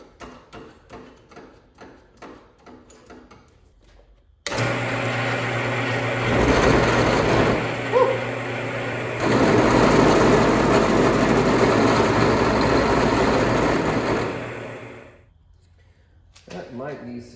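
A power drill grinds steadily through steel for about ten seconds, boring a 9.1 millimeter hole for a grease fitting, with a harsh, even whine, with talking before and after.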